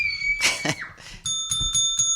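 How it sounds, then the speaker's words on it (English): A small bell rings several times with bright sustained tones after a brief burst of noisy, voice-like sound, fairly loud and close, set within a fantasy sports talk show. "There's that little bell."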